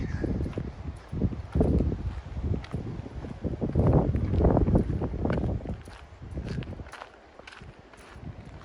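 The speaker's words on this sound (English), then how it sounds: "Sorry, it's really windy today." Gusty wind buffets the microphone with low rumbling blasts, rising and falling throughout, with faint crunching footsteps on needle-covered ground on a farm in Portugal.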